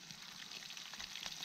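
Perch fillets fry in a pan with a steady, soft, close sizzle and faint crackling spatters, with no voices.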